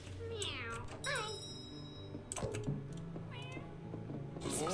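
A cat meows several times up close, rising and falling cries spaced apart, with faint clicking in the background.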